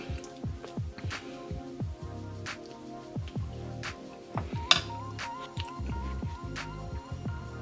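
Close-up chewing of vegetarian taco pasta in a thick cheese sauce from a 2017 Workman MRE ration, with soft squishy, wet mouth sounds and smacks repeating steadily and loudly throughout, no talking.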